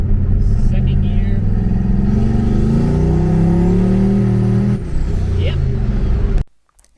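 Turbocharged car pulling hard in second gear under boost, engine roaring loudly with a rising drone, then hitting the ECM boost cut where the spark is killed and the power drops out, stuttering briefly before going nearly silent.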